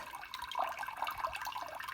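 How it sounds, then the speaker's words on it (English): Water poured from an orchid's pot onto a log, a soft close trickle and splashing with faint dripping, quiet and continuous for a couple of seconds. "So I will fill the log with the water that comes from the orchid."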